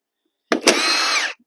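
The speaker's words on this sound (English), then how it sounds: "take our 6mm Allen head on an impact" An impact driver fitted with a 6mm Allen head, used on bolts of a Suzuki quad, gives one short loud whirring burst of under a second, close by and alone.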